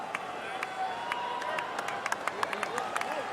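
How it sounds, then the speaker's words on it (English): Scattered applause from the crowd at a US Open tennis match, isolated claps sounding over a steady hum of crowd noise. "He's not minding the applause"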